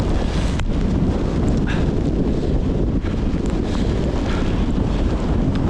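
Steady wind buffeting a GoPro microphone fitted with a small wind protector during an outdoor run, a constant loud rumbling roar that fills the whole stretch without pause.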